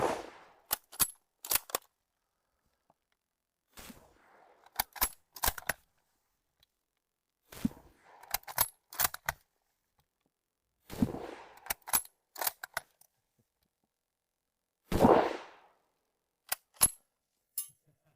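Persian Mauser bolt-action rifle being handled, loaded and fired: sharp metallic clicks and bolt clacks in short bursts separated by silences, with one loud shot near the end, all close and without talk.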